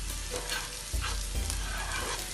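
Onions, ginger, garlic and tomatoes cooking in a pan over medium heat for butter chicken, a close sizzle with a few stirring bumps over a couple of seconds.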